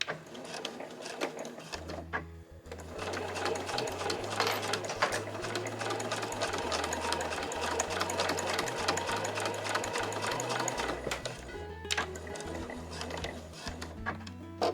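A sewing machine stitches Marimekko cotton fabric for a small cosmetic pouch, running in a fast steady whir with a brief pause near the start and a short stop and restart near the end, close and clear with no talk.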